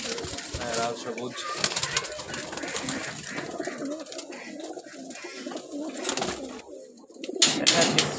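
Young flying pigeons on a rooftop coo continuously in low, warbling rounds close at hand, a dense overlapping chorus with a brief burst of wing flapping near the end.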